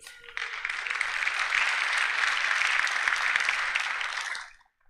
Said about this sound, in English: The attorneys always get a special round of applause.